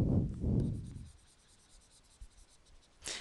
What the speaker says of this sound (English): Let's erase it.